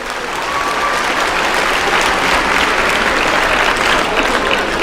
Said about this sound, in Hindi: एक बार सबसे कहूंगा कि एक बार तालियां बजा दें